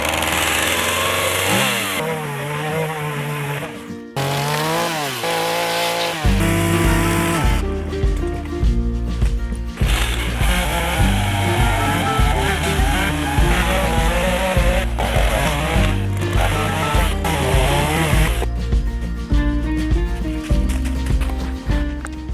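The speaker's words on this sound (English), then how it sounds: "This is a small 17 horsepower tractor." A small 17 horsepower tractor engine runs loud and steady throughout, its pitch rising and falling as the load changes.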